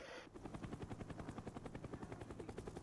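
An attack helicopter killstreak in Call of Duty: Black Ops, its rotor thumping in a fast, steady rhythm at close range for a few seconds, with faint gunfire mixed in.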